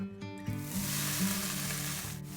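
Crumbled tofu sizzles steadily in hot avocado oil in a pan, a loud continuous frying hiss that swells after a soft start and holds without voices.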